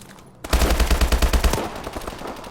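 A burst of rapid automatic fire from the HBRa3 elite rifle in Call of Duty: Advanced Warfare, a dozen or so close, punchy shots in quick rhythm for about a second, trailing into a fading echo with no talk.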